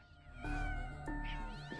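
A Maine Coon cat gives two drawn-out, tonal meows close by, the second slightly higher and wavering, with a brief softer sound trailing at the end.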